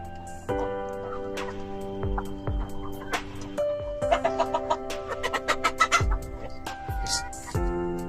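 KUB chickens cluck and chatter nearby in a busy backyard coop, with repeated short calls rising in the middle, over a steady background hum.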